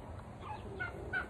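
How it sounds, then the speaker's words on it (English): A turkey hen calling, a few short yelps rising from faint to louder across a second, fairly close over a quiet outdoor background. "this turkey hen."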